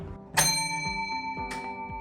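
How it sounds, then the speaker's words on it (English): An old mechanical door bell on an antique front door rings with a bright metallic strike, its tone lingering and ringing out, then a second fainter strike follows about a second later. "This is pretty cool, this old bell."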